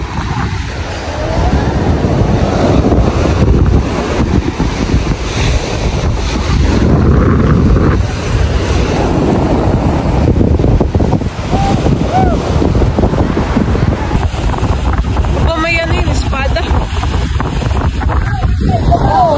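Big waves at sea under strong wind, a constant loud roar of wind buffeting the microphone with crashing surf and a boat's rumble, steady throughout with faint voices underneath.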